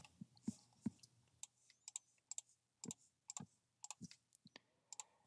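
Quiet, sharp clicks from a computer mouse or keyboard come in irregular bursts, some doubled, close and crisp against a near-silent room with a faint hum.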